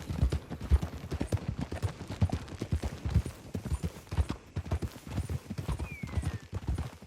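Horse hooves clip-clopping in Red Dead Redemption 2, a brisk steady rhythm of close, distinct hoofbeats with a brief whinny near the end.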